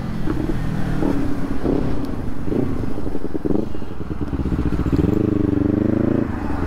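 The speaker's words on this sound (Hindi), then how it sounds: "1000 सीसी की बाइक है" A 1000cc motorcycle engine idles and revs close by, with a throaty rumble that rises and falls in short bursts, plus some clattering, and a stronger rev near the end.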